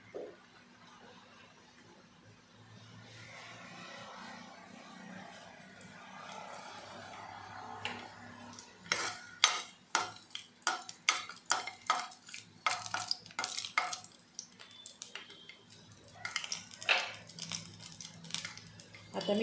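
Whole garlic cloves go into well-heated oil for tomato rice, a quiet hiss at first, then a run of sharp metallic spoon scrapes and knocks against the pan as the cloves are stirred, close and uneven.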